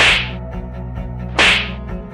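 A slap lands on a news anchor's face during an argument inside a medical store, heard as two sharp, loud smacks about a second and a half apart over steady background music.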